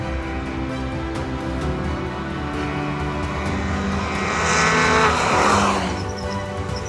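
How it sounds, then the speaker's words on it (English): A 2016 Mazda MX-5 Cup race car drives on track, its engine a steady close drone that swells louder around the fifth and sixth seconds before settling back. "So we're driving the new 2016 MX-5 Cup car"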